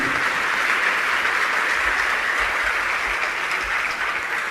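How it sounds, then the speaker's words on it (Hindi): A large audience at a Jain religious discourse gives sustained, dense applause, steady and loud throughout with no voices over it. "तालियां आपकी कम बज रही हैं।"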